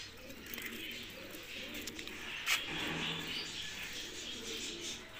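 Pigeons coo softly in a loft or coop, low murmuring calls over a faint background hiss with a brief sharper chirp midway, fairly distant and quiet.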